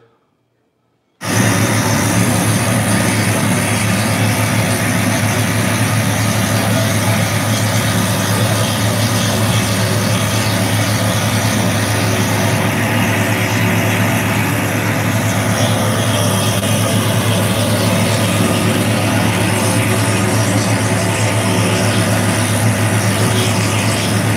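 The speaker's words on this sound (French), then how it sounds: "hélicoptères" Helicopters of the UN peacekeeping mission in eastern Congo give a loud, steady rotor and engine roar. It starts abruptly after a moment of silence and holds unbroken throughout, with no voices.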